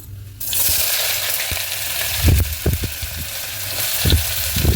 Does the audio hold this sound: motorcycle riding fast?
no